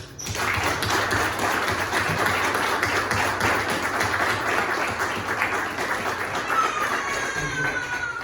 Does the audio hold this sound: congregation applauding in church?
yes